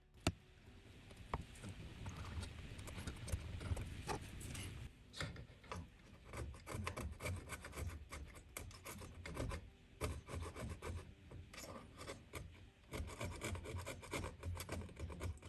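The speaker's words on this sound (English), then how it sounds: "I'm just dragging it across the surface, just clipping that glue." A screwdriver tip dragged lightly across a surface on a Marantz 2215B receiver, scraping off old glue near the dial string, giving a steady dry rasping scrape in close repeated strokes, with no talking.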